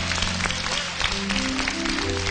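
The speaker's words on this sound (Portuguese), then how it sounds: "Aplauda bem forte, irmão." A church congregation claps loudly and steadily in a dense, continuous burst, with some voices mixed in.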